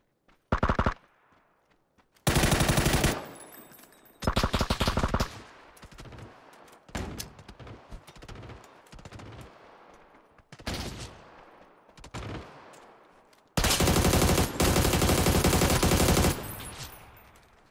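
Gunfire in the video game PUBG, with long loud automatic bursts and scattered single shots coming close, spread over several seconds with short gaps between them.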